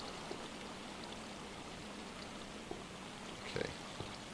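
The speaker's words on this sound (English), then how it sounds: "that will allow us to keep carrying all of our drops with these water currents" Flowing water currents in the block-building game Minecraft make a steady, soft rushing trickle, with a few faint clicks and a short blip near the end and no voices.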